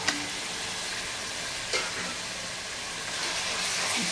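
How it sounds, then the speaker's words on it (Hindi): Marinated chicken frying in a curry masala base, giving a soft steady sizzle with a faint hiss, punctuated by occasional stirring scrapes and a light clink near the start. "चिकन को हम अच्छे से भून लेना है, कम से कम 4 से 5 मिनट तक अच्छे से हम चिकन को भून लेंगे"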